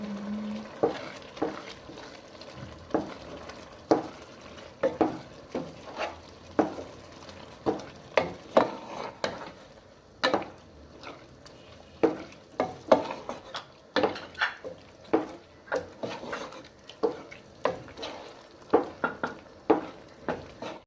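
Grated carrots for gajar ka halwa are stirred and roasted in a pan, a soft background sizzle punctuated by repeated scraping strokes of a spoon at a steady, unhurried rhythm; no talking.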